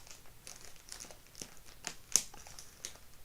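Scissors snip and crinkle through plastic packaging in a series of short, close crackling rustles with one sharper cut near the end, no talking.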